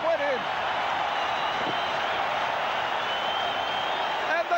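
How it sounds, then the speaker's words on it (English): A stadium crowd roars and cheers after a try in a 1985 State of Origin rugby league match, a dense, steady wash of noise with a commentator speaking briefly over it. "And the crowd go up."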